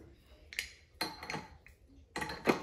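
Metal spaghetti die clinking into place on a Riviera & Bar PMP500 pasta machine: several short, close metallic clicks and clatters in quick succession, fairly quiet.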